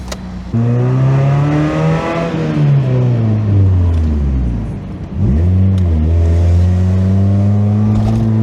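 A Mazda Miata engine with no muffler revs loudly and close, rising and falling in two long blips with a raspy, droning exhaust tone and no talking.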